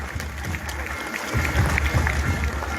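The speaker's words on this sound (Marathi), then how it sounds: "जोरदार टाळ्या वाजवायच्या आहेत." An audience at a tribal culture festival in Nashik claps in a dense, steady patter. The applause swells slightly partway through, with crowd murmur mixed in.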